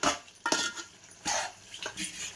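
A spoon clanks and scrapes around a pot of Andhra-style country chicken curry gravy, several sharp metallic knocks and swishes in uneven bursts, close by with no talk.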